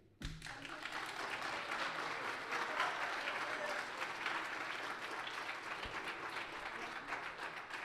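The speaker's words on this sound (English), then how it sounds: "a gentle clap after each candidate because they have presented a speech" Steady applause from an audience after a student election candidate's speech in a chapel, a dense wash of clapping hands that starts abruptly and carries on evenly for several seconds.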